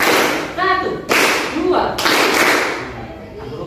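Students in a classroom clapping game clap on command in a few sharp, loud bursts, with a teacher's voice briefly audible between them.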